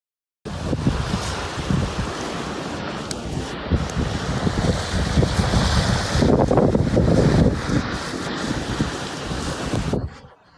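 Storm-driven waves toss boats in rough water, a loud, continuous roar of churning sea and gusting wind that starts abruptly and carries on steadily to the end.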